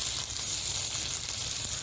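A steady, close sizzle of tomato paste frying in a hot pan, continuous and even with no pauses.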